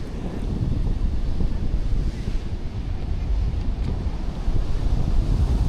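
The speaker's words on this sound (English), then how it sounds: "The Pacific Ocean right here." Wind and Pacific Ocean surf on the Washington coast near Rialto Beach, a steady loud roar of waves with buffeting wind noise on the microphone, no voices.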